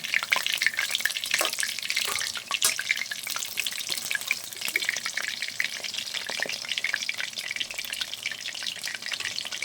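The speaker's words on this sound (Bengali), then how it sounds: "এইভাবে আমি সব চিকেনগুলোকে ভেজে নেবো।" Chicken pieces fry as pakoras for chilli chicken, a steady bright sizzle of hot oil running the whole time with small crackles and pops, close and fairly loud, no voices.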